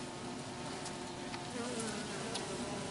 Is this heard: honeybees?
yes